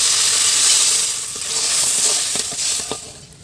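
A pan of mustard greens on a village stove crackles and sizzles steadily as water is poured in, a loud hissing wash with a few sharp pops and stirring clatters near the end.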